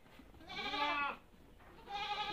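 Young Jawa Randu does bleat close by, two loud drawn-out calls separated by a short pause, with no talking.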